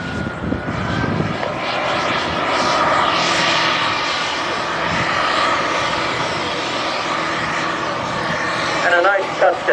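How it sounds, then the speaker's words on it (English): An RC model A-10 jet touches down at a jet rally, its engine a loud, steady roar that swells and eases across the pass. An announcer speaks over the noise. "And a nice touchdown for our A-10."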